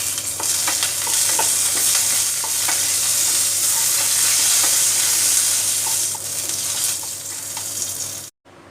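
Curry leaves, chana dal and a dried red chili sizzle loudly in a pan as they are stirred, a steady close crackling hiss that cuts off abruptly just before the end, with no speech.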